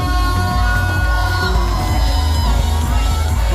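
Wedding guests cheer and shout loudly for the newlyweds, a dense, continuous crowd roar of whoops and yells with music underneath throughout.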